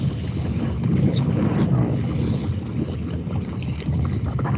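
A special effect imitating a volcanic eruption in Iceland heard from about 100 meters away: a dense, continuous roaring rumble with gusty, wind-like texture and crackling, loud and unbroken throughout.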